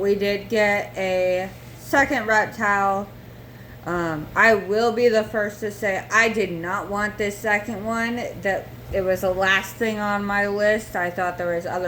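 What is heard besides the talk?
No everyday noises stand out.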